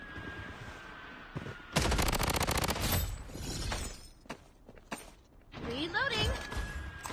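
Rapid bursts of gunfire in the online shooter Blood Strike, a dense loud volley in the middle followed by scattered shots and game effects, with someone talking over parts of it.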